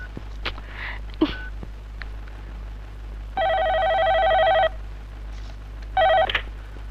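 A telephone rings in two electronic bursts, the first long and the second shorter, with nobody picking up; a few knocks and footstep-like thuds come before the ringing.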